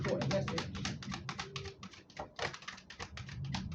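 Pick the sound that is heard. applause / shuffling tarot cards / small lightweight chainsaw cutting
shuffling tarot cards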